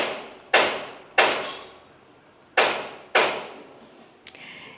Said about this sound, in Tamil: எங்கள் வீட்டுக்கு பக்கத்தில் ஒரு கன்ஸ்ட்ரக்ஷன் நடந்துகிட்ருக்கு.